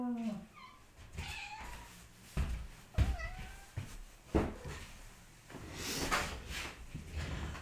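A cat meows a few times in short, rising calls, with clunks and bumps of handling or movement nearby and a louder cry near the end.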